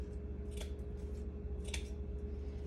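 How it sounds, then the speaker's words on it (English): Scissors snip through plastic netting during a coffee-dyed paper craft session, two distinct close cuts about a second apart over a steady low hum. "I'm going to take my scissors."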